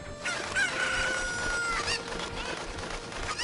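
A cucco chicken clucks and crows in The Legend of Zelda: Ocarina of Time in Kakariko Village, a short burst of game sound over faint background music.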